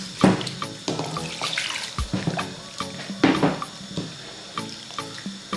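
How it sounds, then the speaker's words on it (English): Water splashes and trickles into a bowl of potato dough with a little salt, broken by several sharp bursts and knocks as it is mixed, near and fairly loud, with no talking. "Then add my water to mix it."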